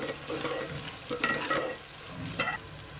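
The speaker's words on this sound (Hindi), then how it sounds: "अब हम इसमें डालेंगे सब्ज़ मिर्चें, और इनको भी हल्का सा फ्राई कर लेंगे।" Green chilies stir-fried in a pan for a moringa flower and meat curry give off a steady close sizzle, broken by a few scraping stirs of a spoon against the metal.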